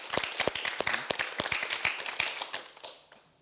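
A small group at a youth-policy meeting with a minister claps in a brief, uneven burst of distinct, close hand claps that thins out and fades to quiet.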